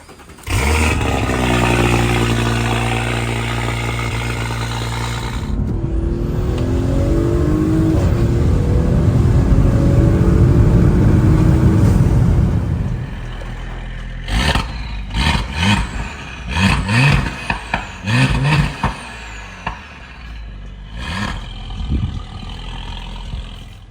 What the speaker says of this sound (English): I'm about to record this cold start because it sounds super mean.